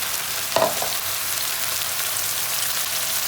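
Tomato puree added to a hot karai for a vegetable biryani, a loud constant frying hiss with a brief clatter near the start, steady and close with no talking.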